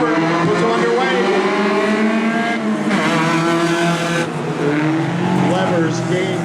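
Hornet A class race cars roar around an oval track, engines droning and rising as they accelerate. An announcer talks over the loud, continuous engine noise.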